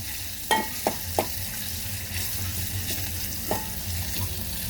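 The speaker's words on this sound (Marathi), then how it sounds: "आता कांद्यानंतर आलं लसूण टाकायचं." Ginger and garlic hit a hot frying pan after onions, giving a steady close sizzle with a few sharp clicks of utensil stirring near the start and once more later.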